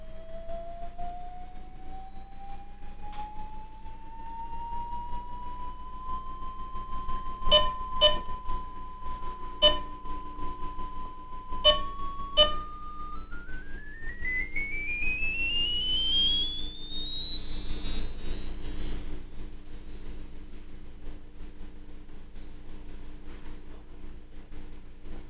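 Sweeping test tone from an Ameritec AM-48 transmission test set, a pure steady pitch that climbs gradually, holds in steps, then rises high, with a few brief clicks as settings change; no talking.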